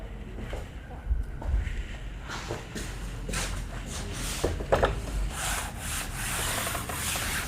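A board is wiped clean during a biology lecture on human reproduction, making a steady broadband rubbing swish that continues through the clip, with a few louder strokes near the middle and no talk over it.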